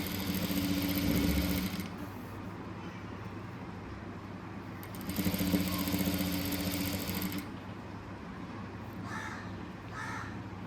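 A sewing machine stitches along the folded edge of fabric in two steady whirring runs separated by a pause, with crows cawing in the background.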